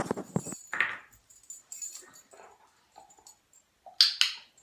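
A dog picking up a bunch of keys, mostly quiet scuffling and small clinks, then a couple of brief, bright metallic jangles near the end as the keys are lifted.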